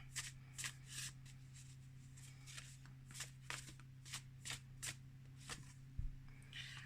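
A deck of cards is riffle-shuffled repeatedly, soft crisp bursts of flicking paper close by over a low steady hum, with no talking.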